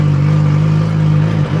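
A Nissan 240SX drift car with a turbocharged KA engine runs steadily just after its first start, a loud, close, droning idle with a strong low hum that holds evenly, dipping briefly near the end.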